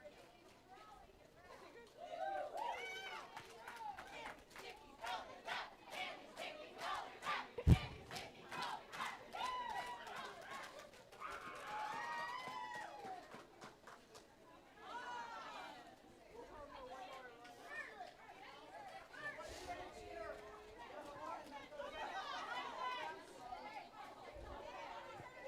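A roller derby crowd cheers, chatters and stomps in rhythm at a game, a lively but somewhat distant hubbub of voices with steady marching beats and occasional shouts.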